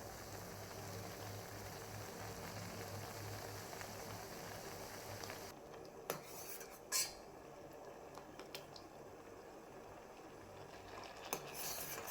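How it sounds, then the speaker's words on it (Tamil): Rice kanji boiling in a pot, with a steady bubbling hiss that drops off partway through, followed by a few soft clinks of utensils against the pot. "இப்போ இது நல்லா கொதிச்சு வேக ஆரம்பிச்சிருச்சு"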